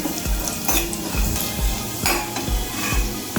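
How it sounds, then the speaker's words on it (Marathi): A spoonful of cumin seeds crackles in hot oil over a low gas flame, a steady close sizzle broken by regular soft thumps and scrapes of a spoon stirring in the pan. "तेल गरम झाल्यानंतर त्याच्यामध्ये एक चमचा जिरे टाकणार आहे मी ते बारीक गॅसवरती असे व्यवस्थित फुलवून घेणार आहे"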